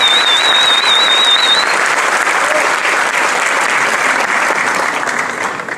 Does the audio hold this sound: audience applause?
yes